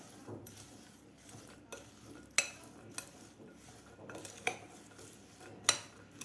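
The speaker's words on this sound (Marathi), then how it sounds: "हिरवी मिरची शेव असं व्यवस्थित आपल्याला हे मिक्स करून घ्यायचं आहे" Bhel made with fresh pigeon peas, green chilli, sev and spices is stirred in a bowl with a spoon, a soft steady rustle broken by several sharp clinks of metal against the bowl, quiet and close.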